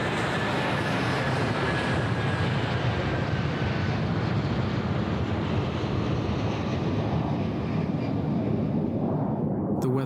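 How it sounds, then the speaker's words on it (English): An Airbus A330 airliner loaded with over 47 tons of fuel takes off from Toronto, a steady, heavy broadband jet roar that holds loud and continuous throughout, with no break or rise. "the Airbus A330, loaded with over 47 tons of fuel, left Toronto for Lisbon."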